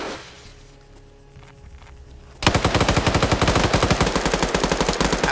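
Gunfire from the video game Arma 3 during a PvP match, a quiet stretch of footsteps and soft movement that abruptly gives way to a loud, sustained burst of rapid automatic fire lasting several seconds.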